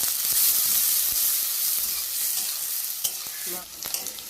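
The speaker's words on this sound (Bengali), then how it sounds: "পেঁয়াজ ক্যাপসিকাম মানে ভাজা ভাজা হয়ে গেছে" Onion and capsicum sizzle and hiss steadily in a hot pan, with scattered scraping and clinks of a spatula stirring them.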